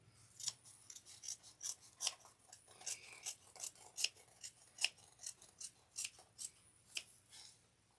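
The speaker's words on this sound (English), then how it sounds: "we're not trimming the zipper, of course, but the other layer" Scissors snip through the outer fabric layer of a slouch shoulder bag beside its zipper, a steady series of close, crisp cuts with short pauses between, heard alone with no talking.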